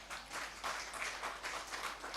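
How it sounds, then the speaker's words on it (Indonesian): Applause from a church congregation during a sermon, a steady wash of clapping at moderate volume lasting a couple of seconds. "Tepuk tangan."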